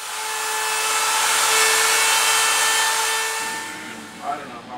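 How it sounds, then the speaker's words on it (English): A part held in pliers against a bench grinder produces a steady, loud, high whine that holds for several seconds and then dips as the part comes away, with a few faint knocks at the end. "just take a little pliers and hold it to the grinder"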